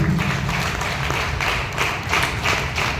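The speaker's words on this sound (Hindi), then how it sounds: "मैं चाहूँगा उनके लिए एक जोरदार ताली" An audience clapping at a success-stories talk, loud close-range applause with rhythmic pulses of claps repeating through a few seconds, no voices over it.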